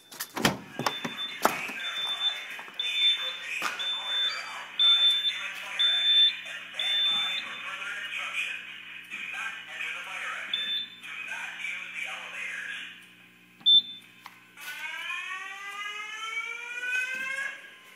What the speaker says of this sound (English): Let's go shut off the alarms.